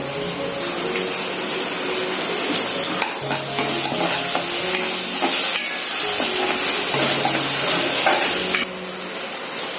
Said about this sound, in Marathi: आता हे छान परतून झाले, त्याच्यामध्ये मी थोडीशी आलं लसूणची पेस्ट टाकते